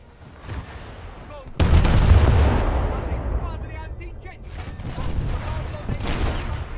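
Heavy naval gunfire in a video game: a sudden loud broadband blast of shelling that booms and rumbles, then decays into a sustained roar with further distant shots, all fairly close and loud with no speech over it.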